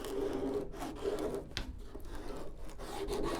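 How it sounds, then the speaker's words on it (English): A large plastic sheet is rolled across carpet and flexed, giving a steady rough rubbing, scraping texture with brief crinkly bursts of bowing, close and continuous, with no voices. "It's just a big sheet of plastic, so you can roll around on carpet, and you can bow it"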